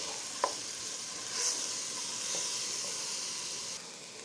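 Moroccan mallow (bakoula) being stirred in a pan, a steady hissing sizzle with soft scraping from the stirring, close and even throughout, one small knock early on.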